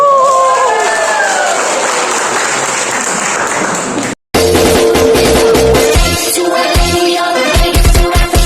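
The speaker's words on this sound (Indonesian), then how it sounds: "Tepuk tangan." A crowd applauds during a school field visit at SMPN 1 Blega; loud, dense clapping runs steadily for about four seconds, then cuts abruptly to music.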